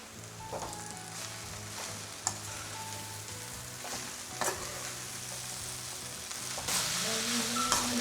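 Chicken noodles frying in a pan at a roadside-style stall, with a steady crackling sizzle and utensil scrapes and clinks as they are tossed, the hiss swelling louder toward the end.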